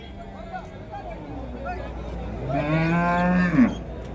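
At the Ananthapur cattle market, a bull lets out one loud, close moo of about a second after a stretch of background chatter and soft lowing.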